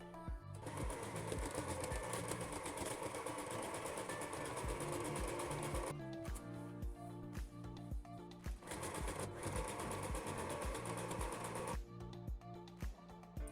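A sewing machine stitches a pocket seam on a pair of shorts, running in steady loud close bursts with a brief pause before each restart.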